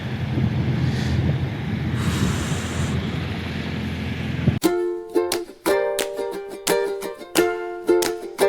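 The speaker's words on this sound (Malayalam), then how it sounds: "നല്ല തണുപ്പ്, നല്ല കാറ്റ്." Strong, cold wind gusts in Norway on a European truck trip, giving a steady roaring rush for about four and a half seconds before music abruptly takes over.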